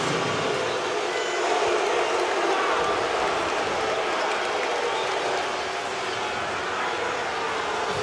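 Loud, dense crowd roar at a college basketball game, San Diego State at Cincinnati, sustained evenly for several seconds after a disputed overtime foul call, with no clear voice above it.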